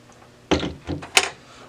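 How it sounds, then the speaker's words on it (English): The top and front access doors of a Lexmark MS810 laser printer are opened: a quiet pause, then a plastic thunk and rattle, a second softer clunk, and a sharp click close to the microphone. "Once it's off, we're going to open this top access door and the front access door."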